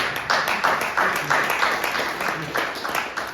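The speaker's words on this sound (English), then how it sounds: "I'll get some time for the applause" An audience at a conservative leaders forum applauds in steady rhythmic bursts of clapping, fairly close and continuous for a few seconds, with no voices.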